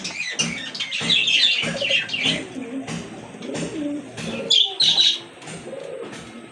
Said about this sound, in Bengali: মাশাআল্লাহ বিগ সাইজের এক জোড়া কবুতর, লাহোরি কবুতর না ভাই?